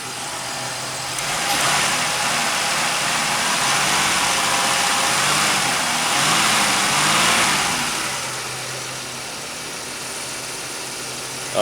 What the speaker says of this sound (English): Oh yeah, hear it? AC compressor.